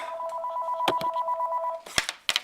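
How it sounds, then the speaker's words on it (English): A telephone rings with an incoming call, a close, steady electronic trill lasting over a second, followed by a few sharp handling clicks and knocks. "There's a phone call coming in."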